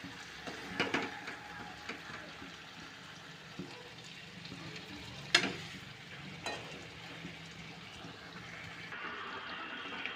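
Chicken leg pieces cooking in a pan, a faint low sizzle with occasional clinks and scrapes, heard from a distance with soft background sounds.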